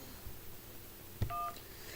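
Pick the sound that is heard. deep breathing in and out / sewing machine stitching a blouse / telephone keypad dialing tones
telephone keypad dialing tones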